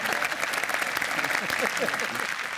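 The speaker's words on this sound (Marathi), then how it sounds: "जोरदार टाळ्या" An audience at a stage comedy show claps in steady, dense applause to welcome comedy actor Abhijit Kelkar, while a host speaks over the clapping.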